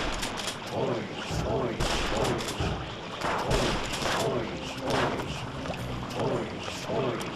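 Max fires repeated gunshots in a Sam & Max game, a rapid, irregular string of loud cracks mixed with other game sounds and voices talking.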